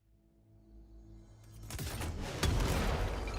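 Explosive gunfire in a video game: after a quiet start, heavy booming blasts swell in and build to a loud burst near the end, with no voices.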